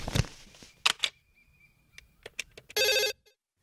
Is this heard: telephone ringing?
yes